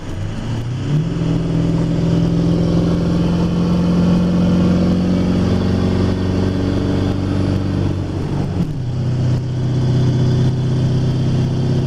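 A loud modified 7.3 diesel pickup engine with an S468 turbo climbs in pitch as the truck accelerates while towing, holds a strained drone, then shifts gear with a dip and pulls on steadily.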